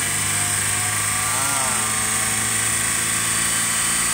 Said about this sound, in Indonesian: Nah, ini digas dulu. Ini terjadi berbet. RPM dinaikkan sampai 3000 lebih.